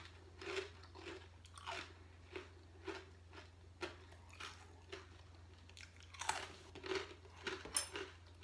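Crunchy chewing of crispy oven-roasted and fried pork belly, a close series of soft bites and crunches in an irregular rhythm over a low steady hum.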